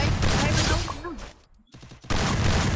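Rapid bursts of gunfire in the battle royale game Free Fire, loud and close, with a short quiet gap before the shooting resumes.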